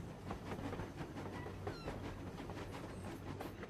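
A long train rolls past in the video game Industria, with a steady rumble and rapid rhythmic clickety-clack of wheels on rail joints, moderately near and continuous without speech.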